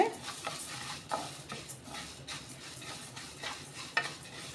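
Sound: pearl millet being dry-roasted and stirred in a pan

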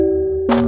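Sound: Chinese bao gong sample

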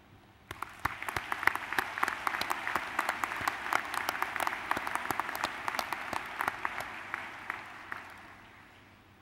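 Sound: audience applause

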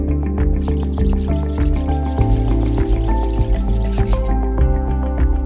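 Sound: slurry sap being poured into a waste management bin

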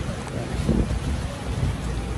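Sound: rain falling

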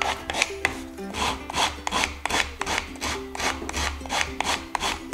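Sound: wood being shaved at an angle for a wooden butter case

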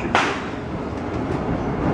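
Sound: Disneyland Railroad train running

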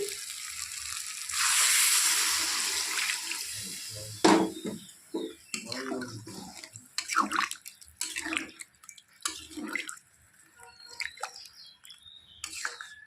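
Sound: broth being poured into cooking goat meat in a pot

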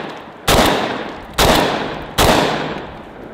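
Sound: Benelli Versa Max shotgun shooting steel targets

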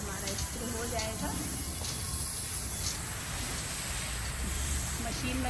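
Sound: garden spray machine spraying insecticide on plants

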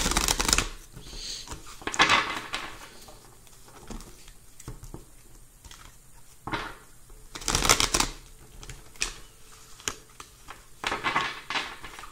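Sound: shuffling tarot cards

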